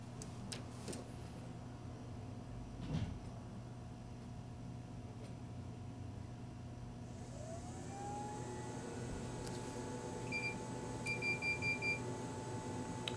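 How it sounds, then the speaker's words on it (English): An M2 direct to garment printer powers on amid a low steady hum, a rising motor whir followed by a few short electronic beeps near the end, quiet and close with no talk. "keep holding them until the power comes on and we hear 3 little quick beeps"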